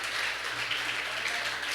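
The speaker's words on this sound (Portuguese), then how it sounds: "Você vai levantar um aplauso bem forte ao nosso Deus nessa noite." A church congregation claps, a dense, steady wash of applause filling the room with no break.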